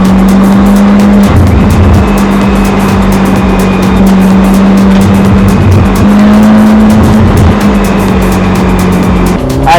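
A Ferrari Amalfi accelerates hard, its engine droning loud and close with rising and falling pitch through gear changes, plus tire and road noise, heard alone without talk.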